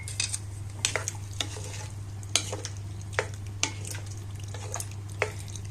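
A spoon stirs orzo and chicken liver in a pot, making a series of separate scraping, clinking strokes against the pot, with faint sizzling and a steady low hum underneath.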